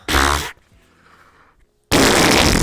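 A loud, close mouth-made fart imitation blown straight into a microphone, a wet buzzing burst of about half a second, followed by a quieter murmur and then a second long, blaring raspberry that overloads the input.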